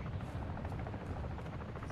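Helicopter flying overhead in the video game Call of Duty DMZ, a dense, steady rotor thrum and wash that fills the moment continuously, moderately loud.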